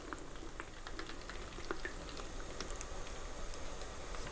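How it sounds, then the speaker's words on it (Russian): Water poured onto orchid roots that had been dry for over 30 days, making a steady bubbling, trickling hiss with small crackles throughout, heard alone with no talk. "собственно, я заливаю воду."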